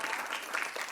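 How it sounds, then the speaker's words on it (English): Applause at a dinner honoring women in engineering and STEM, a brief, fairly quiet burst of crowd clapping heard from a distance. "I want to give a round of applause to all the women in engineering and STEM"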